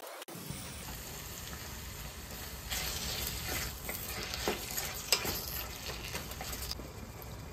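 Tomatoes sizzle and fry in a pan with ginger garlic paste, a steady crackling hiss broken by the scrape and clatter of stirring, close and moderately loud, with no talking.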